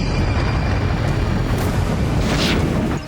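A drone strike sets off an explosion at the Ryazan oil refinery in Russia, heard as a loud, sustained roaring rumble that fills the whole clip and cuts off abruptly at the end.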